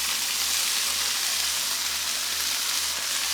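Halved cherry tomatoes sizzle in a hot pan of olive oil, giving a steady, loud, close hiss that stays even throughout with no talking.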